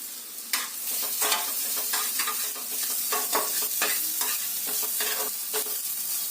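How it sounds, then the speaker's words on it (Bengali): Chopped onion, dried red chillies and raw cumin seeds fry in hot oil with a continuous sizzle, broken by repeated scraping stirs of a spoon against the pan, close and clear with no talk. "আর কুচিয়ে রাখা পেঁয়াজ দিয়ে ভালো করে ভেজে নিতে হবে এতে দিয়ে দেব অল্প করে কাঁচা জিরে ফোড়ন"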